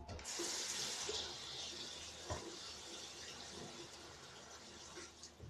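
Running tap water splashes into a sink while toy plastic vampire teeth are washed, a steady close hiss of flow that goes on throughout, broken by a light knock or two.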